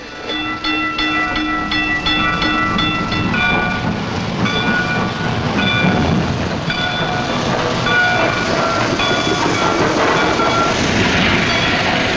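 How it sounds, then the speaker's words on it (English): A train rumbles steadily along the rails with rhythmic clatter and faint high metallic squeals, loud and continuous throughout. "Some strangers got off the train while Peter Shaver and the others were climbing on board."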